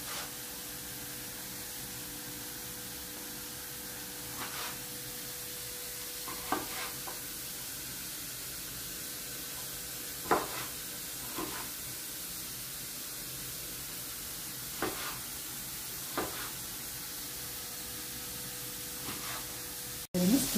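Liver sizzles in a frying pan with a constant, even hiss, and occasional soft scrapes and clinks of stirring break in every few seconds, ending with a sharp handling knock.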